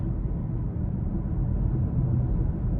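Steady low road rumble inside the quiet cabin of a 2021 Kia Sportage S AWD, a soft continuous hum of tires with nothing else standing out.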